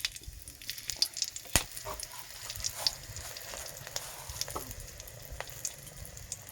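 Dried and ripe chilies crackle and spit in hot oil in a wok with a salt pinch, a dense close sizzle with sharp pops throughout and no voices.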